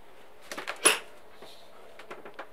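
A big cupboard door in the aft cabin of a 2009 Lagoon 440 catamaran opens with a few soft wooden knocks and one sharper clack, close and brief, followed by faint taps.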